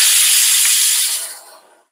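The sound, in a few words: pressure cooker whistle while cooking chickpeas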